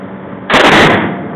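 One loud, sharp gunshot from a Smith & Wesson .357 Magnum revolver cracks out close by, its blast decaying over about half a second with no talking.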